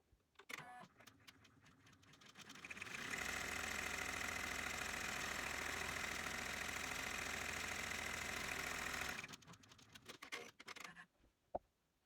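A home embroidery machine stitches a placement line for the front panel of an in-the-hoop double-zipper fanny bag, giving a steady, loud mechanical whir that runs for several seconds, with quieter handling clicks before and after.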